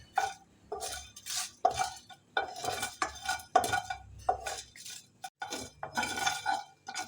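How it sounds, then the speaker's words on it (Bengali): Whole black peppercorns, about ten to twelve, dry-roasting in a dry pan for a Bengali chana motor dish, stirred with repeated scraping and clinking strokes in a steady rhythm, close and fairly loud with brief pauses between. "এগুলোকে সব কটা আমি খুব ভালোভাবে ভেজে নেব"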